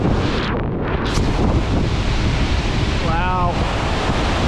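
Upper Hastings River Falls in Werrikimbe National Park roars as a steady, dense wash of close, loud spray noise, buffeted by wind on the microphone, with a brief faint call cutting through near the end.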